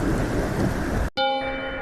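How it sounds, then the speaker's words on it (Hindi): A thunderstorm of heavy rain and roaring thunder gives a short, loud, dense wash of noise that cuts out abruptly near the end, leaving a faint ringing tone. "सिर्फ तूफान की गर्जना"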